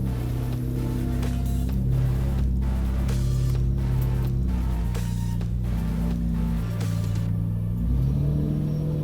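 A Nissan Skyline R34 GT-R up on a jack runs its rear wheels, and the engine rises and falls through repeated revs in an ongoing mechanical drone, loud and close.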